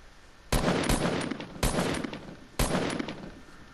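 Assault rifle bursts in Fortnite, three loud volleys of rapid shots each starting sharply and trailing off, close and dominant with no talking.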